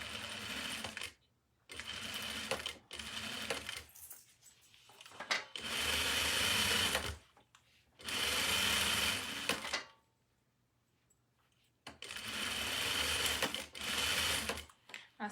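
A sewing machine stitching anklets in several bursts of rapid, steady whirring, each a second or two long, separated by short pauses and close to the listener.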